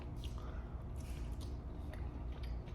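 Someone bites and chews a microwaved pork gyoza dumpling close up, with soft squishy, wet chewing sounds and faint clicks over a low background hum.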